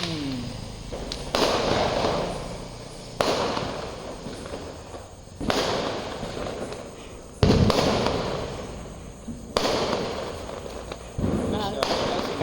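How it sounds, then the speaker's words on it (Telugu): Diwali firecrackers and fireworks burst at night in a series of loud sharp bangs roughly every two seconds, each followed by a fading crackle, with excited voices talking between blasts. "బాంబులు వావ్ దీపావళి దీపావళి రా"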